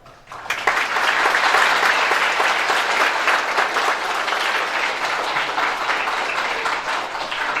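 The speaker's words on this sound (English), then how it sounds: "So we're going to clap for them." At a 5th and 6th grade school band and choral concert, the audience breaks into loud, full applause that starts abruptly and holds steady, with many hands clapping together and faint crowd murmur underneath.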